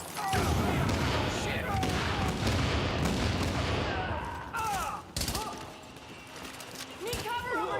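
Gunfire in The Division fills a dense, loud battle mix with sharp repeated shots and bursts. Voices talk over it throughout.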